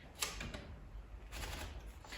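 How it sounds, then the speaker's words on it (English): A typewriter clacks in scattered bursts of key strikes with short pauses between them, fairly quiet and with no one talking. "I am just obsessed with the typewriter and I'm having so much fun."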